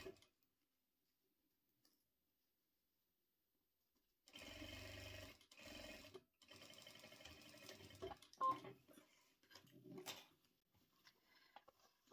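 A sewing machine stitches a straight seam on a fabric pencil case, running in short bursts with brief pauses between them after a quiet opening.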